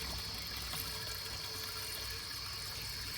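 Bottled mineral water pours steadily into an SUV, a low, even trickle over a constant hiss at moderate distance, with no talk.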